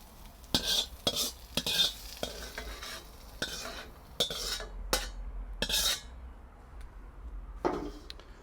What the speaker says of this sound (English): Just cooking this through for another minute or so, breaking down these onions as we go.